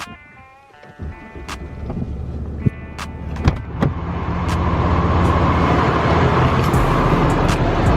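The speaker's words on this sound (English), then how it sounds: "We're gonna start the truck now." A 5th-gen Ram 2500 pickup with a Cummins diesel cranks over after a warning chime, then settles into a loud, steady idle with a deepening rumble that builds and holds close to the mic; brief clicks come first, and no one talks.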